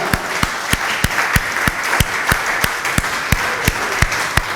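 Church congregation clapping in a steady, regular rhythm, sharp beats roughly every third of a second, with a soft crowd murmur beneath and no clear speech.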